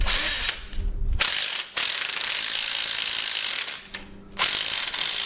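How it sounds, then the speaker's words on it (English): A ratchet wrench tightening bolts on Kubota tractor stabilizer bars, loud close clicking in long continuous runs broken by a few short pauses between strokes. "All I really need to do now to complete the job is tighten the bolts."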